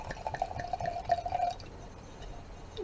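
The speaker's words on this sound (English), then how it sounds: "So anyway, we've got this open and pour a little bit in here." Baldwin Vineyard Hudson Harmony blueberry merlot being poured into a glass, a faint trickling, splashing stream for about a second and a half before it stops, with no talk.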